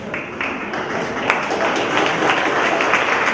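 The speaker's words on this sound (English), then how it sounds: "I wasn't sure if we could get any applause from that or not" Audience applause at a River to Rail community event, a dense, steady wash of many hands clapping at moderate distance, holding evenly throughout without voices standing out.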